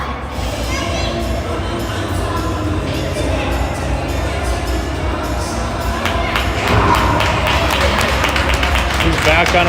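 An ice hockey arena crowd applauds an injured player as he skates slowly to the bench, with steady crowd noise and a rising patter of stick taps later, under a commentator talking.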